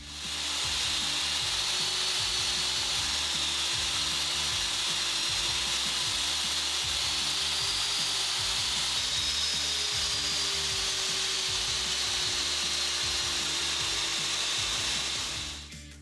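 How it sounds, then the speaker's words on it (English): Long wooden pieces being ripped on a table saw make a loud, continuous whining roar that holds steady and even from start to finish, close up with no voices. "Just when you thought there wasn't going to be any sketchy table saw stuff today, I do need to rip down the long pieces."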